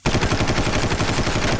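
Rapid automatic gunfire in a video game, a loud, dense, continuous burst of rattling shots with no pause.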